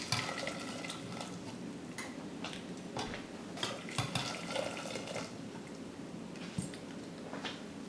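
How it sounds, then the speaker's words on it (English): Hot water splashes over metal canning jar lids and rings, a continuous watery rush sprinkled with light clinks and ticks of metal shifting, fairly close and steady. "Now I'm dumping the hot water in with the lids and rings to sanitize them."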